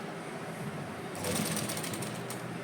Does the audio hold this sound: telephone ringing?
no